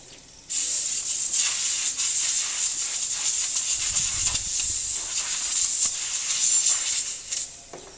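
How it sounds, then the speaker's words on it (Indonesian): Cleaner sprayed onto a motorcycle air filter during emission-control maintenance gives a steady, close hiss lasting about seven seconds, with a slight dip midway and no talking. "Kemudian kita semprotkan."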